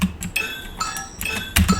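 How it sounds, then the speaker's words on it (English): A rhythmic crystal bell synth in an electronic remix, glassy chiming hits recurring in a quick pattern over a busy backing mix with low thumps, close and fairly loud, no talk. "this kind of like rhythm sounding crystal bell thing"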